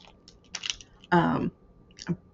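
A mini Black Thunder chocolate cookie bar is bitten with one loud, close crunch, followed by a few softer chewing crackles.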